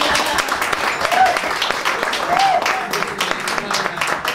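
Crowd applause at a conference on women's and girls' rights, loud sustained clapping with voices over it and a couple of brief tonal sounds.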